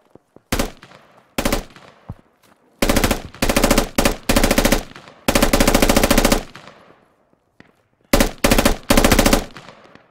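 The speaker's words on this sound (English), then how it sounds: "Northwest, that's where the shots are coming from." Bursts of rapid machine-gun fire in the Squad video game, loud and close, coming in repeated volleys separated by short pauses, with single shots in between.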